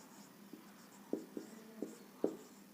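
Chalk or marker writing equations on a classroom board during a physics lesson, sparse close taps and short strokes at an uneven pace, faint and with no talking.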